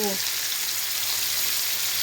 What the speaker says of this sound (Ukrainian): серце ось викладаю, хай смажиться